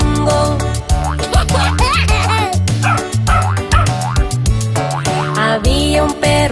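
Cartoon-style dog barks and yips in a Spanish-language children's song about a farm dog, repeated in rhythm over a loud, busy musical backing with sung vocals.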